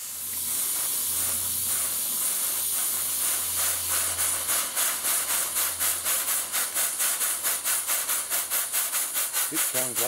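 A model steam pump runs with a hissing exhaust that settles into fast, even chuffs like a small locomotive, steady and close, with a faint voice briefly at the end.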